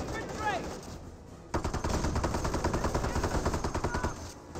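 Rapid automatic gunfire in the real-time strategy game Company of Heroes around a half-track and a Grenadier squad, loud bursts of machine-gun fire rattling almost continuously after a quieter opening with a whistling effect.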